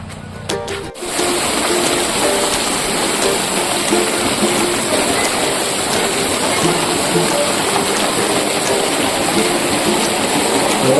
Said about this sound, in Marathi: खूपच जोरात पाऊस सुरू झाला आहे